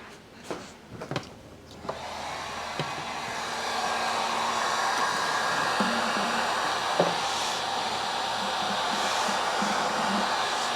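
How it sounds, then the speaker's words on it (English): Heat gun blowing hot air on a part of a Carpet Express C4 carpet steam cleaner during a motor repair. A few handling clunks come first, then a steady, close, whooshing airflow drone settles in and holds. "Give it a little bit of heat."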